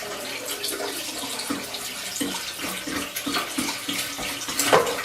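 Waste from a Thetford Porta Potti Curve portable toilet tank gurgles and splashes into a standard toilet, a continuous pouring rush with glugging pulses, close and alone.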